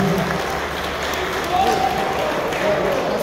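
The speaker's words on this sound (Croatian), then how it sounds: "Jedan veliki još aplauz za Macka Jelena, zasluženo." A crowd applauds steadily at a Croatian Posavac horse breed stallion show, while an announcer's voice carries over the clapping.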